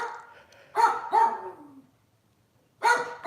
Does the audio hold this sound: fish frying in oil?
no